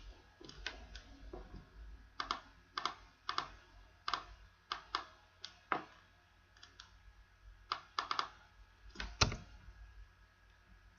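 Computer keyboard keys click in quick uneven bursts while entering data in an Excel spreadsheet, close and fairly quiet, with no talking.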